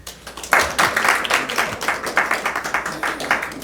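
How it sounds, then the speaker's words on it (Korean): A church congregation applauds a visiting brother at a Sunday service, a modest round of clapping that begins abruptly and continues in a steady, slightly uneven patter of many hands. "우리 한번 박수로 환영하겠습니다."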